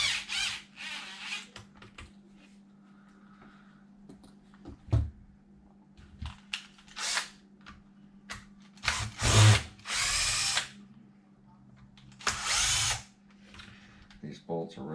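A power drill drives bolts into a Traxxas Widemaxx control arm in repeated short, whirring bursts over a steady background hum, with faint workshop clatter between runs.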